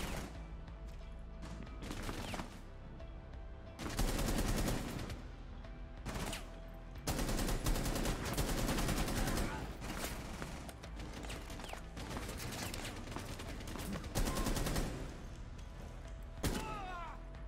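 Repeated bursts of gunfire in Rainbow Six Siege, loud clusters of shots separated by short pauses, mixed with thuds and impacts during a ranked match.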